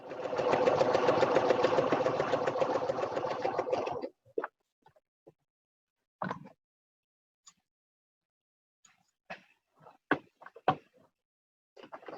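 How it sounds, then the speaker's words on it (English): A sewing machine stitches across a fabric tray in a steady, close, rattling run of about four seconds, then stops, followed by scattered light clicks and knocks. "So I'm just going to sew right across that."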